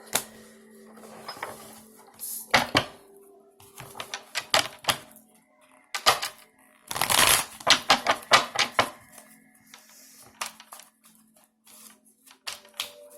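Oracle cards being shuffled and handled for a tarot reading, a run of sharp, irregular riffling and tapping bursts close by, with one longer dense flurry midway and quieter gaps between.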